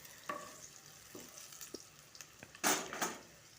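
Onion bhaji fritters frying in a pan, a soft steady sizzle broken by occasional clinks and scrapes of a utensil, with a louder crackling burst near the end.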